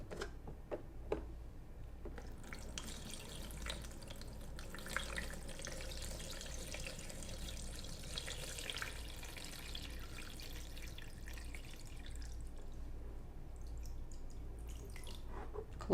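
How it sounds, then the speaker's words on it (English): Water flows and trickles into the tank of a BUNN BXB Velocity Brew 10-cup home coffee brewer after the lid is closed, a faint, steady hiss and drip with soft ticking, no talk. "You can hear the water going into the tank."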